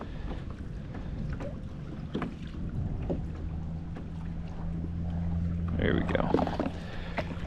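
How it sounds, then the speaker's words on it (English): Strong wind buffets the microphone on a Florida river dock during a fishing outing, a steady roar that swells toward the end, with a low hum running through and someone speaking briefly. "This wind is really starting to crank up."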